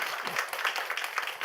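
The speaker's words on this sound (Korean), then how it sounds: "제가 박수를 많이 치는 이유가 있어요." A church congregation clapping during a Sunday afternoon worship service, a dense, continuous patter of many hands lasting about a second and a half with no voices over it.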